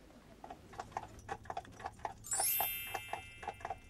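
Horse hooves clip-clopping in a steady, even rhythm at moderate distance in the Bavarian countryside, heading toward Herrenchiemsee, with a bright metallic ding ringing out partway through.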